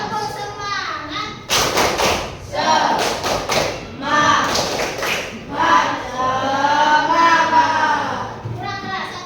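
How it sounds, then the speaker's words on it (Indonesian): Indonesian schoolchildren in a classroom lesson perform a rhythmic spirit clap, several bursts of sharp group clapping in patterned beats, mixed with children's voices chanting and talking between and over the claps. "Tepuk semangat."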